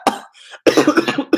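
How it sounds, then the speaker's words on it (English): A close, loud cough followed by a rough, repeated coughing burst, short and harsh. "I don't know why I'm coughing lately."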